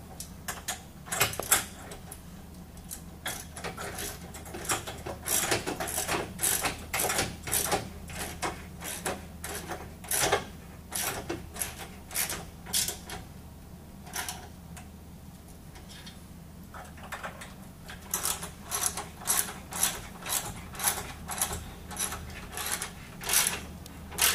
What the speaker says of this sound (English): You want to tighten them from the nut side with the socket